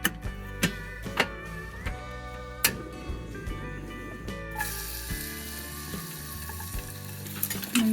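Miso cooking on a bed of onions sizzles softly in a pan, punctuated by sharp clicks and taps of metal, quiet and close with no talking.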